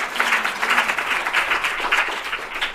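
Audience applause at a community info session for a women's tech bootcamp, a steady dense patter of many hands that holds at a moderate level throughout, with no clear talk over it.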